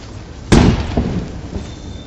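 Punch landing on a kickboxing heavy bag during beginner training, one loud, sharp thud followed by a softer second impact, close up, with no talk.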